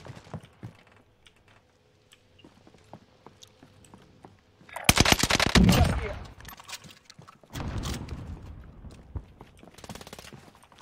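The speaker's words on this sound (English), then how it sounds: "I'm shooting the guns." Video game machine gun fire in a team shooter bursts out in loud rapid volleys, then a second rattling stretch, amid keyboard clicks and voices talking.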